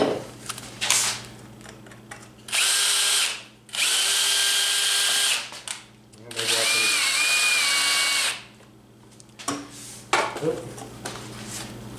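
A power drill backs a screw out of a sheet metal patch panel in three sustained, close, whirring bursts whose pitch shifts under load, separated by clattering and handling noises.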